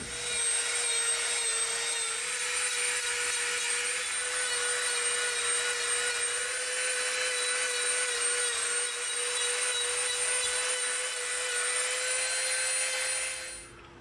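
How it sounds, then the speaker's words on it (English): A Dremel rotary tool grinds and shapes EVA foam in a steady, loud whine with a sustained high tone, running continuously for most of the clip before cutting off at the end. "Now we're going to start dremeling from here back."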